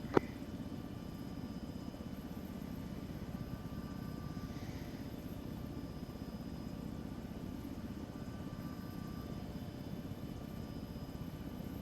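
Helicopter in the video game ArmA 3, a steady low rotor and engine drone running continuously at moderate level, with a faint radio-like hum and no talk.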